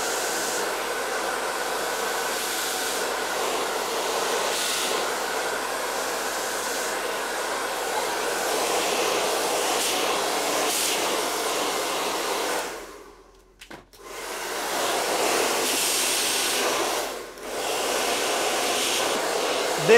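A hair dryer blows hair dry during a skin fade haircut, a loud steady whoosh running almost continuously, briefly cutting out twice and then resuming.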